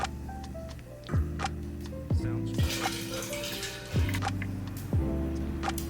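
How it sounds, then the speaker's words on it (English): Sparkling water is poured into a Halloween drink recipe with a brief fizzing hiss, under steady ticking tones and background music. "we're gonna be adding some sparkling water"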